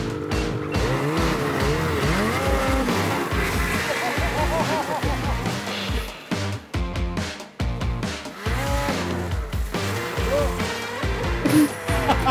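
A snowmobile engine in the Newfoundland backcountry revs hard and close during a wheelie attempt, its pitch surging and dropping repeatedly with brief cuts, while voices are heard alongside.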